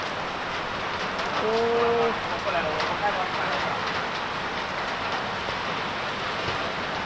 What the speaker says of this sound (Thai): ฝนตกแล้วพี่น้องเลย